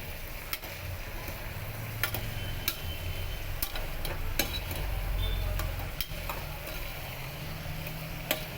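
A bottle gourd and chana dal curry with coriander powder and salt being mixed in a pan, with a steady low sizzle and occasional sharp clicks and scrapes of a spoon against the vessel, close and fairly quiet.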